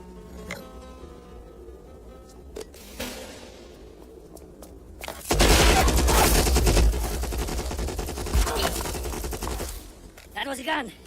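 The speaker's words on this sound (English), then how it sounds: "That was a gun." Gunfire in a Captain America action scene, a sudden loud, dense burst of repeated shots lasting several seconds after a quieter stretch with speech, then fading into softer movement sounds.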